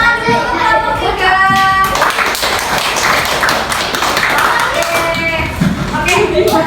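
A primary school class at an Indonesian elementary school claps for a group after its presentation, steady dense applause from many small hands throughout, with children's voices mixed in.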